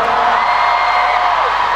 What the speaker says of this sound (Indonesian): tepuk tangan semangatnya lagi semuanya